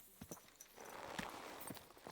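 A horse in Kingdom Come: Deliverance II clip-clops along, several distinct hoof strikes in an uneven walking rhythm, fairly quiet and close, with a soft rustling bed behind.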